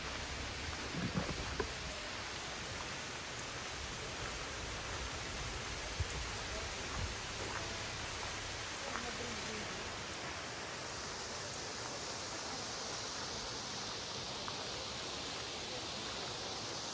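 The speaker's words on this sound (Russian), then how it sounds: "Идемте ближе к водопаду" A mountain waterfall gives off a constant, hissing roar, broadband and unbroken, heard from a short distance with no distinct splashes standing out.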